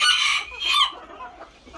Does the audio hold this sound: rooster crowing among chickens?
yes